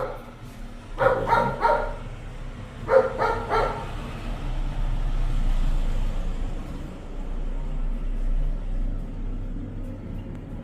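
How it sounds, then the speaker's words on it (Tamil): Dog barking at night at a remote hillside house in Kotagiri, two short bursts of several barks each, moderately near, followed by a low steady rumble of background noise. "நாய் கண்டிப்பாக குலைச்சிக்கிட்டே இருக்கு"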